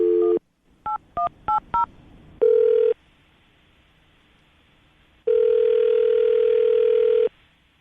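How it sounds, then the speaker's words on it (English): A phone's dial tone is cut off by a quick series of beeping keypad tones, then a steady tone sounds briefly, pauses, and returns for two seconds. "I'm going to dial the phone number right now"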